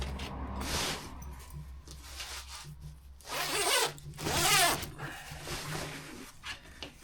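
A zipper is worked back and forth on a homemade rifle bag, producing several close, scratchy pulls of varying length over a low background hum.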